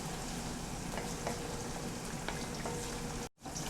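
Onions frying steadily in a pan for chana karahi, a dense even sizzle with a few soft stirring ticks, close and continuous, cutting out briefly near the end.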